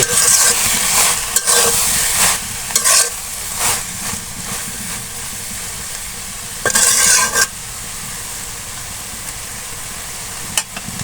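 Malabar spinach fruit with coriander leaves stir-frying in a pan, a loud close sizzle with repeated bursts of spatula scraping and stirring, easing to a quieter steady hiss, no talk.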